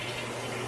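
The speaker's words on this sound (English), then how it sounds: "You're about to flush it?" A toilet flushing, a steady close rush of water filling the bowl and tank that lasts the whole short moment with no pauses, fairly loud, with no talking.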